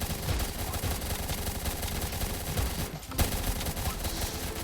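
Rapid bursts of automatic gunfire in a Roblox tower defense game, continuous and loud throughout with a brief dip near the end before the shooting resumes.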